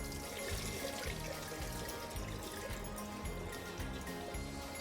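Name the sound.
rinse water poured off soaked mixed millet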